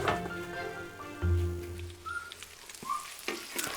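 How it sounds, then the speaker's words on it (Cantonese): Pieces of snake pan-fry over low heat until browned, giving a steady close sizzle with soft crackles and a few brief scraping touches. "先用細火將蛇中段煎至焦黃"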